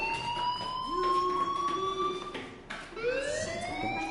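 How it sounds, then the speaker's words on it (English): A school fire alarm in the video game Life is Strange sounds loudly as a steady electronic wail, rising and falling in long sweeps with a brief break before the tone resumes; no voices. "do you hear that fire alarm? That means you should be outside."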